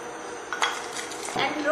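About a cup of vermicelli tipped into a hot oiled pan, a clatter of utensil against metal followed by a rising light sizzle and stirring, close and moderately loud.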